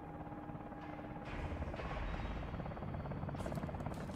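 Helicopter rotor and engine drone in the Call of Duty Advanced Warfare video game, a steady broadband whir that swells louder partway through and stays loud, with faint talk briefly under it.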